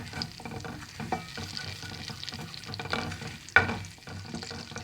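Butter browning in a pan over fairly high heat, a steady close frying sizzle with soft stirring scrapes and one sharper clatter near the end, no voices.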